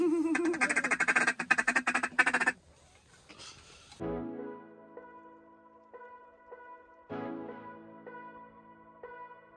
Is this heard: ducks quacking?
yes